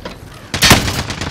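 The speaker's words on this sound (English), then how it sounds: "I'm taking fire here." A sudden, loud burst of gunfire from the Call of Duty: Modern Warfare video game cuts in midway through a short moment of quiet background.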